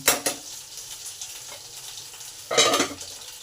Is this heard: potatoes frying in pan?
yes